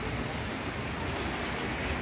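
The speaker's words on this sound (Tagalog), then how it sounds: "Walang tigil ang ulan, 1 week na." Heavy rain after a week of nonstop downpour and flooding, a dense, steady hiss of falling water, even and unbroken throughout, with no voices.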